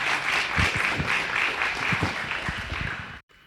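A studio audience breaks into loud, steady applause on a talk show about anemia, dense clapping that holds for about three seconds before cutting off abruptly.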